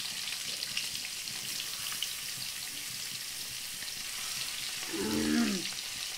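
Cumin seeds tempering in hot oil in a home kitchen, a soft steady sizzle through most of it, swelling into a louder burst of frying near the end.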